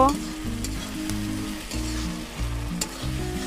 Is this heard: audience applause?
no